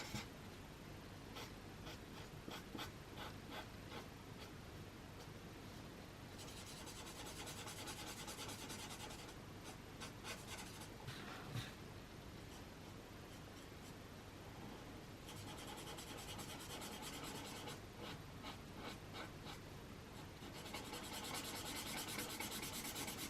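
Chisel tip of a colouring marker drags across paper in quiet, scratchy strokes, soft rasping rubs repeating in short bursts and longer sweeps, close and alone without talk.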